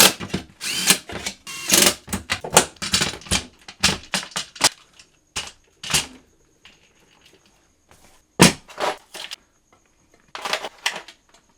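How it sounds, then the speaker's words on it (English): A power drill drives bolts while an office chair is assembled, giving bursts of whirring and ratcheting separated by short pauses, close and fairly loud. "I prefer using power tools."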